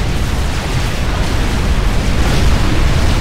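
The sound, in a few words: explosion in Supreme Commander Cybran mission, video game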